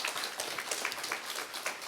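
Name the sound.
congregation applauding the church choir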